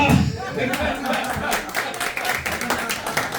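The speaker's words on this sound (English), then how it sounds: "keep those applause going" Audience applause at a comedy show in Lakeview, a dense, steady clapping that carries through the whole stretch with a voice talking over it.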